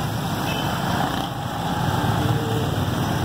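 Street traffic in Korangi, Karachi, after heavy rain: a continuous low engine rumble and hiss of passing vehicles, steady and moderately loud, with no voices.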